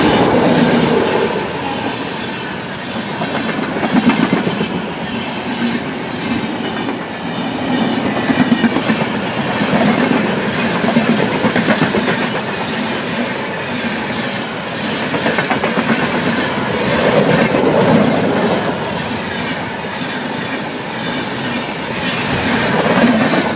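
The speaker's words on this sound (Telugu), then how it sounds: "ఇప్పుడు వెళ్ళిన ట్రైన్ వచ్చి ప్రశాంతి ఎక్స్ప్రెస్" The Prasanthi Express, running late, rolls through Dwarapudi station with a loud, steady rumble and rhythmic clickety-clack of wheels over rail joints that lasts throughout, with no voices.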